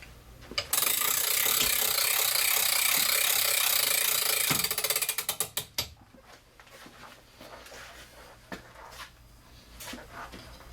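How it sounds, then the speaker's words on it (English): Compound bow on a draw board being cranked back, a loud dense ratcheting clatter for several seconds that slows into a few separate clicks, then quiet handling. "Alright guys, we got our bow on the draw board. We're going to crank it back."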